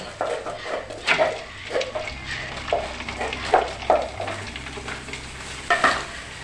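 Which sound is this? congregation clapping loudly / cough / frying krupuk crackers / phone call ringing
frying krupuk crackers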